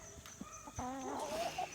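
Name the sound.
rooster clucking on farm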